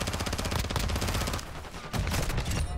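Fast bursts of automatic gunfire in a first-person shooter video game, loud and close, with a short lull midway before firing resumes.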